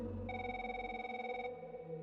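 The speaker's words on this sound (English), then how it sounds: "heard the dial tone of a phone call trying to get through" A phone call's ringing tone sounds while trying to connect, a steady electronic multi-tone ring lasting just over a second over a low hum, faint and alone.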